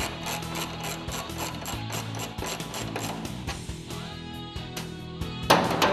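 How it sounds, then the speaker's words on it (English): Close, steady ratcheting of a 5mm socket wrench loosening the handle on a JLG Liftpod: a fast, continuous clicking pawl rhythm for several seconds, ending in a brief louder scrape. "using the 5mm socket or Allen wrench"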